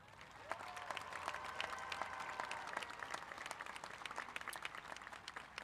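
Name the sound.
graduation ceremony audience applause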